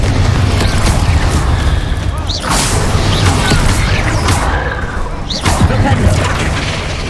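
Confringo fire-blast spell explosions in the Hogwarts Legacy video game, loud booming bursts at about 2.4 and 5.3 seconds over a dense, continuous bed of game combat noise.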